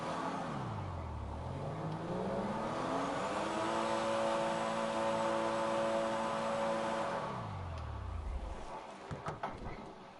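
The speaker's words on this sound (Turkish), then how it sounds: "Egzoz çalışıyor ama araba gitmiyor." A stalled car in the game GTA 5 revving its engine without moving, the pitch climbing and holding a steady drone before dropping away, fairly loud and close, then a few scattered clunks at the end.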